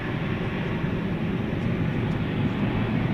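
Steady, loud broadband roar of a Volaris Airbus A320neo at DFW Airport at night, continuous and close with no speech, the engine wash holding constant throughout.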